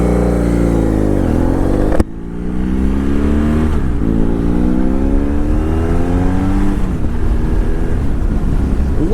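A 2010 BMW F800GS motorcycle engine drones steadily while riding, with rising and falling revs as it shifts and accelerates, loud and continuous under heavy wind noise.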